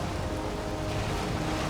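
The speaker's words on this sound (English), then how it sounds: "Whoa, okay, gigantic waves." Gigantic ocean waves roll and surge in Valheim, a dense, steady wash of water noise with a low rumbling undertone, moderately loud and unbroken, with no voices.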